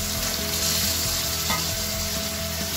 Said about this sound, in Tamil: அதுக்குள்ள நம்ம இஞ்சி பூண்டு பேஸ்ட் போட்டு ஆயிருக்கு, ஃப்ரை ஆயிட்டுருக்கு